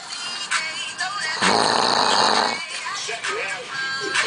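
A man snores loudly and close by, with a long rasping breath in the middle and people talking around it.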